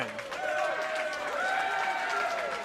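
A wrestling crowd at a title match claps and cheers at moderate distance, a broad steady wash of applause under a mid-pitched voice that rises and falls across the span.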